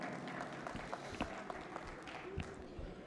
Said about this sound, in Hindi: अली साहब, डिप्टी चीफ मिनिस्टर तेलंगाना का आप सबकी तालियों की गूंज में इस महफिल में इस्तक़बाल करता हूँ।